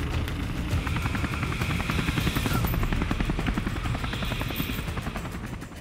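A Teton County Search and Rescue helicopter responds near Grand Targhee Ski Area, its rotor blades producing a loud, steady rhythmic thumping with a constant engine drone, heard close and alone.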